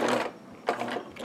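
A sewing machine runs in two short bursts, stitching elastic onto fabric for a costume made from bedding, with a brief pause between the close, whirring runs.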